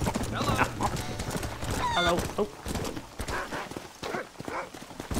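Steady clip-clop of horse hooves with a whinny in the video game Red Dead Redemption, while a voice calls out a few short greetings over the hoofbeats.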